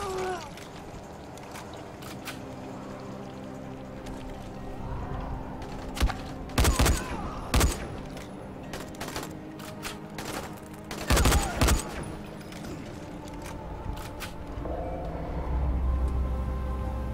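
Bursts of gunfire erupt while shooting people in the video game Dying Light, several loud clustered volleys of rapid shots among quieter game ambience, with keyboard clicks in between.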